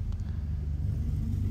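Cars idle in a traffic jam at the 1000 Miglia classic road rally, a steady low engine rumble holding close and even throughout with no voices.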